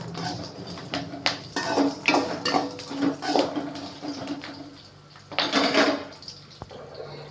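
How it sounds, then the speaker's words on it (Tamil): Curry leaves and green chillies stirred in a pan, giving repeated metallic scrapes and clinks of a spoon against the pan with a light sizzle, close and steady, with no one talking. "கொஞ்சோண்டு அதையும் கிளறி விட்டுக்கலாம்."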